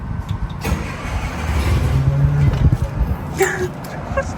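The starter of a 1953 Peterbilt truck, parked for 40 years and missing a starter tooth, cranks and grinds unevenly before the motor catches, loud and close, with people talking over it.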